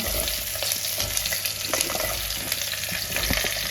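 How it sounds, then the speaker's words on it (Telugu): Pumpkin pieces fry in hot oil for a sweet jaggery pumpkin curry, giving a loud, steady, close sizzle with occasional crackles and stirring sounds throughout. "ఫస్ట్ నూనె హీట్ ఎక్కింది, గుమ్మడికాయ ముక్కలన్నీ వేసేసుకున్నాం."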